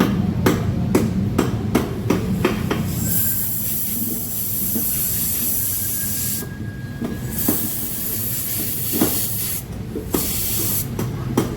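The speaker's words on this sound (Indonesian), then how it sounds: "Kita buka dulu solenoidnya. Lepaskan solenoidnya." Hissing spray bursts and sharp metallic knocks as the solenoid is worked loose and pulled from a Yamaha Jupiter MX motorcycle with a high-idle fault, several clacks early on, then a steady close hiss.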